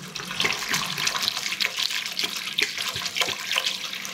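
Water splashing and pouring steadily into a cooking pot while making ghee rice with basmati rice, a close, continuous gurgling stream.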